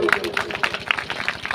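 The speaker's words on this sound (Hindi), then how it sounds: "एक बार बजा दो ताली जरा" An audience at a temple donation gathering claps for a generous donor, a quick, fairly even run of hand claps heard together with people talking.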